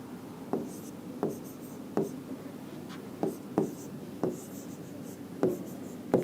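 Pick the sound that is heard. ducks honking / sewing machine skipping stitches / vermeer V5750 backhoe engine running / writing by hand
writing by hand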